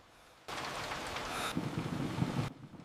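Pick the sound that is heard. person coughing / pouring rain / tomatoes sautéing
pouring rain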